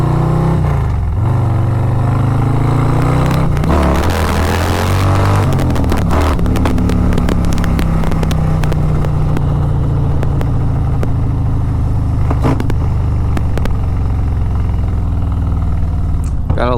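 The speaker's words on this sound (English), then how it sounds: "Gotta love that Grafio's exhaust, man. That shorty pipe, I love it." A Harley-Davidson Road Glide fitted with a Grafio's shorty exhaust pipe rumbles loud and close the whole time, its deep engine note rising and falling as the throttle shifts during riding.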